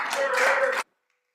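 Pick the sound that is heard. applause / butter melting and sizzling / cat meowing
applause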